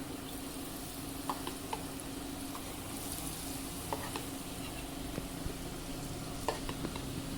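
Ladoo batter fries in a pan like pakoda, with a continuous hissing sizzle and scattered small pops and scraping clicks of stirring, heard close up and without speech.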